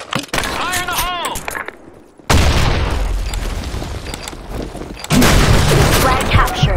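A grenade explodes amid gunfire in the Blackshot online shooter, with heavy booms and dense bursts of shots arriving in loud waves after a brief lull, and a voice speaking over the early part.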